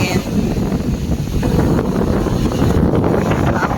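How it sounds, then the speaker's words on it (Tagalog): Strong Habagat monsoon wind batters the microphone at Boracay beach during stormy weather, a steady loud roar of gusty buffeting with no pause. "Super hangin."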